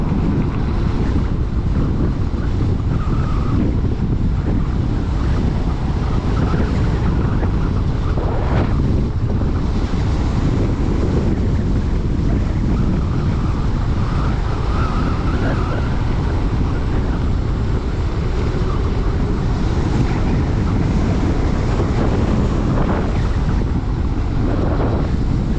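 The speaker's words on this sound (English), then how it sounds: "God damn, it's windy." Strong wind buffeting a microphone while riding an enduro e-bike on a bumpy road, a continuous loud low rumble with gusty surges throughout and no talking.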